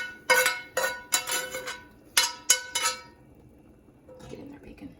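Sausage, bacon and cauliflower drop into a pot of broth with a run of sharp clinks and knocks, about seven quick metallic hits in uneven bursts. A faint stirring shuffle follows as they settle.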